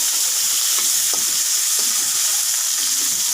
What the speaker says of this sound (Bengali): 2টা তেজপাতা, গোটা জিরা, পেঁয়াজ আর কাঁচা লঙ্কাগুলো দিয়ে দিচ্ছি। আমি লাল লাল করে ভেজে নেব।